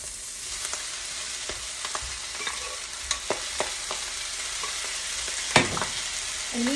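A whole pound of pasta stirred into a hot pan with bacon, steady sizzling frying with scattered scraping and clinking stirring sounds, close and moderately loud, no talk.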